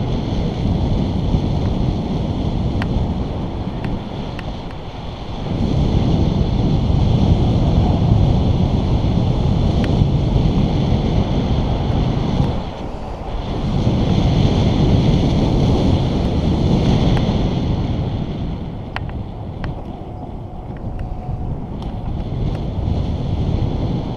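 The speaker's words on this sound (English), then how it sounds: "Hoping that this wind isn't too bad" Strong wind buffets the microphone on a bicycle commute, a heavy broadband roar that surges and drops in long gusts, easing briefly before building again, with no talk.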